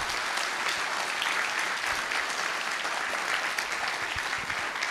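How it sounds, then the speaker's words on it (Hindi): A hall full of first-year engineering students at an induction and orientation program claps loudly and steadily, a dense, continuous roar of applause lasting throughout with no talking. "एक बार जोर से ताली बजाइए"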